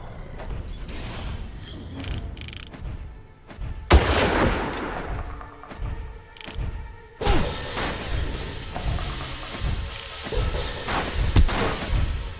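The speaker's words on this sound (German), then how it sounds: "Also sehen durch keinen, aber wir werden beschossen" Gunfire in the video game Far Cry: loud bursts of shots with sharp cracks and mechanical clatter, coming in several waves over a steady rumbling game background, with no voices.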